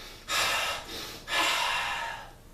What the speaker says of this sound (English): When your mouth starts opening, you start panting